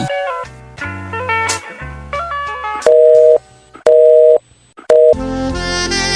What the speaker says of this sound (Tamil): நீங்கள் அழைக்கும் நபர் தற்போது வேறொருடன் தொடர்பில் உள்ளார் சற்று நேரம் கழித்து முயற்சி செய்யவும்